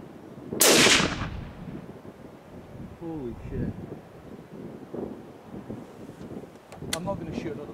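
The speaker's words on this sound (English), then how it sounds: "we'll be shooting off the bonnet of the vehicle" A single loud 7mm Rem Mag rifle shot fired off a vehicle bonnet cracks out near the start, followed by outdoor wind noise, distant rumble and brief voices.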